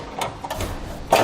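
Tin snips cut through an aluminum heat shield on a 2018 Ford Escape, a few quick close metallic snips and crunches separated by short pauses.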